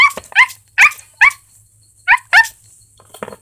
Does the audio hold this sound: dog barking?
yes